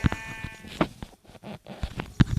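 Minecraft sheep bleat several times in short, sharp bursts, with brief quiet gaps and some clicks between them.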